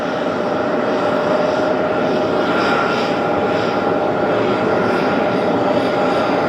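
China Cargo Airlines cargo jet taking off at JFK, a loud continuous broadband engine roar with a steady tonal whine, sustained throughout with no voices.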